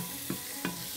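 Garlic hits a hot pot already holding onion and ghee for an Egyptian freekeh dish, giving two short, close sizzling bursts with stirring over a steady low frying hiss.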